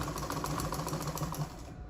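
A sewing machine stitches a 1/4 inch seam on a button-down strap dress with a quiet, rapid, even clatter that lasts about a second and a half before stopping.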